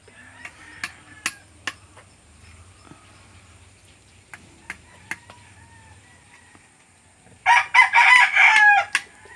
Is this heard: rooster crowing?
yes